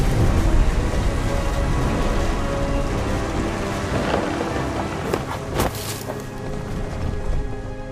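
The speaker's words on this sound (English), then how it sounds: "The thunder sounded much too close and full of angry power" Steady rain pours through a thunderstorm in the game What Remains of Edith Finch, with rumbling thunder and a few sharper cracks near the end, all loud and close with no talking.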